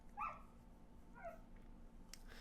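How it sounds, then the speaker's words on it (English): A female puppy whining indoors in short high whimpers, two brief bursts with a pause between, faint against a low steady hum. "I can hear my puppy whining like the little puppy she is"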